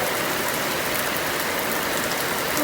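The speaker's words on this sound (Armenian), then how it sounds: "Փափուկ անձրևը գնալով վարարում է։" Steady rain pours outdoors in a dense, even hiss, close and fairly loud, swelling slightly right at the end, with no voices.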